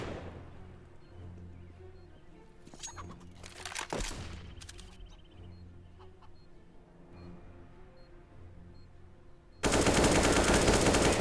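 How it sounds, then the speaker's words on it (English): Counter-Strike gunfire crackles through a competitive match, with rapid automatic bursts and single shots over steady game ambience, ending in a loud, sustained wash of noise. "Beautiful shot from Optus there to put 15 on the board for Caretos"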